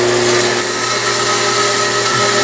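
Bandsaw cutting through wood stock for a carriage stop body, a steady loud drone with a constant hum and hiss running unbroken throughout, no voices.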